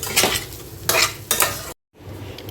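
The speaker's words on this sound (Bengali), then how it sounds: "এখানে ঘিতে চালটা ভাজি" Rice frying in ghee in a pot for pulao: close sizzling broken by three bursts of stirring and scraping, then a moment of silence before a quieter sizzle resumes.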